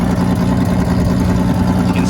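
A panel van's engine idles steadily with a rough, chuffing exhaust leak, loud and close, a continuous low throb with a ragged pulse that carries on unchanged throughout.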